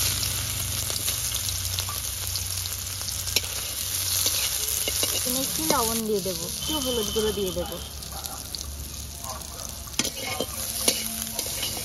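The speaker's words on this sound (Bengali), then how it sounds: "সয়াবিন ভাজার জন্য কড়াইয়ে তেল দিচ্ছি।" Soybean chunks fry in hot oil in a wok, giving a steady crackling sizzle with stirring scrapes, while a person talks over it.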